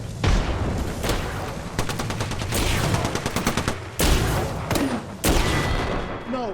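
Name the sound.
Triple Take rifle gunshots in a video game (Apex Legends)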